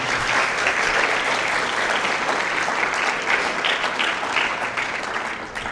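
Steady, dense applause from a church congregation fills the space for several seconds without a break, broad and even in loudness with no voices standing out.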